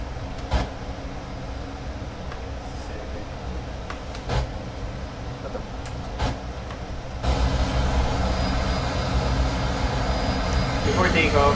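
Airbus A320 jet engines taxiing in a flight simulator: a steady low rumble and whine that holds throughout, then swells louder and fuller near the end.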